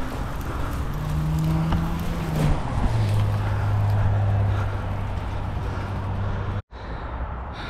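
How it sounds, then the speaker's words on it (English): Road traffic at a busy roundabout in King's Lynn, a constant nearby rumble of passing vehicles with a low engine drone shifting pitch, cut by a brief dropout near the end. "you can probably hear all the road noise"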